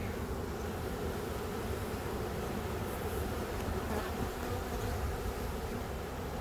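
A package of honey bees being installed into a hive, filling the air with a dense, continuous close-up buzz of many bees that stays level and steady throughout.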